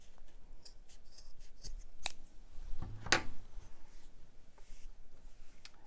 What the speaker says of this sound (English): Right at the halfway point, I'm going to cut these in half,